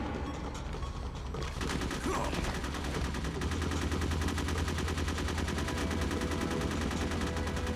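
Rapid bursts of automatic gunfire from Metal Gear Solid Integral rattle continuously over a dense, noisy background, sounding like video game combat with no pauses.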